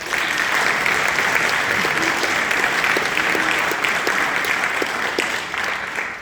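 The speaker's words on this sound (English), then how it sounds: "let's give our saxophone section a round of applause for that" A school spring concert crowd applauds the jazz band's saxophone section, a loud, dense wash of clapping that stays full and even before easing slightly near the end, with a few voices faintly under it.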